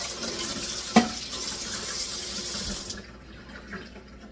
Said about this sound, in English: I'm going to rinse this off now.